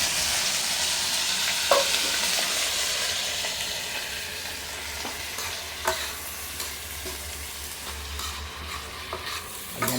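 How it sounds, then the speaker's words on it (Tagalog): Sliced bitter melon (ampalaya) sizzles and hisses steadily in a hot pan while being sautéed, with a few clinks of a utensil stirring, no talk. "Igigisa muna natin ang ating ampalaya."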